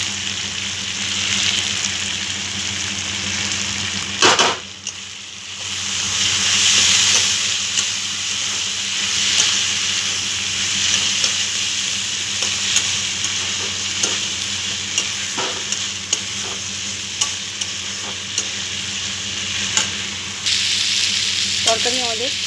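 Potatoes with grated ginger and whole green chilies sizzle steadily in a hot pan for a vegetarian potato curry, with occasional spoon scrapes and clinks as the mixture is stirred, continuous frying hiss throughout.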